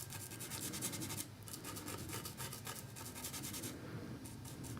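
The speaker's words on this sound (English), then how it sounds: "Just scrubbing a little bit of that highlight color in." A brush scrubs acrylic highlight paint onto a canvas of Valentine chocolate candies, making quiet rhythmic scratchy strokes in quick repeated bursts close by.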